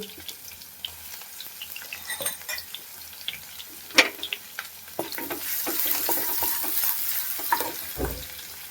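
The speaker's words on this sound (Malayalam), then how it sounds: "വെളിച്ചെണ്ണ ഒഴിച്ചു ചുമന്നുള്ളി ഇട്ടു നുള്ളിയിട്ടു" Coconut oil sizzles softly in a pan as shallots are stirred, with light scraping and a brief splash of water; quiet and close.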